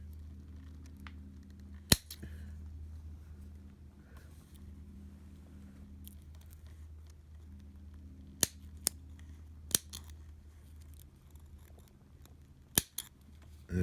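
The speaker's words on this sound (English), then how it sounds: "Cut off the excess" Scissors snipping off excess material during an epoxy repair of a Hart open reel long tape measure, a handful of sharp isolated clicks spread over a quiet room hum.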